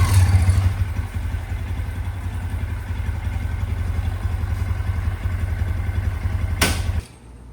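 A Honda Grom motorcycle engine runs at a steady close idle with a rhythmic low putter and light mechanical clatter, then cuts off abruptly after a brief sharp noise near the end.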